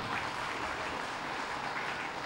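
Dense, sustained applause from a crowd at a Malaysian Merdeka political gathering, an even wash of clapping with no pauses and no talking.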